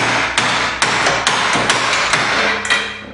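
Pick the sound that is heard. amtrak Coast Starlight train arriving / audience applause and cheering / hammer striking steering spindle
hammer striking steering spindle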